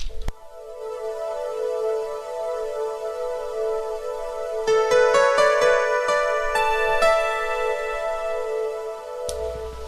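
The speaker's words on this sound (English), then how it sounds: "composed embarrassingly similar piece for a video game called Wave Race 64" Video game music from Wave Race 64, a sustained synth tone joined midway by a bright, busier melodic passage with tick-like percussive accents, playing alone without voices before cutting off near the end.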